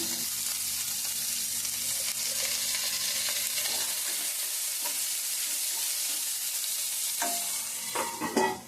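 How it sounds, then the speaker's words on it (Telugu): Onions fry in a pan with a steady, even sizzle close up, and a few light stirring scrapes come through near the end. "ఉల్లిపాయలు ఇవి కొంచెం ఫ్రై అయినాయి కదా"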